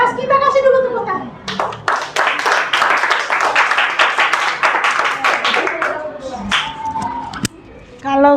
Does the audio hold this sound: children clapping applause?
yes